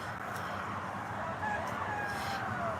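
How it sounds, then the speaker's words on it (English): A rooster crows in a drawn-out call over a constant wash of outdoor background noise, moderately loud and somewhat distant. "I love that chicken you got roosting."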